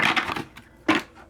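A deck of tarot cards being cut by hand, two quick papery riffles and slaps close up, the second one sharper and louder, with no talking.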